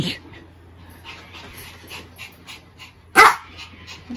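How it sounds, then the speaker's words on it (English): A small dog gives one sharp yap near the end, loud and close, after a quiet stretch with faint soft sounds and low background hum. "Seriously, no one likes a yappy dog."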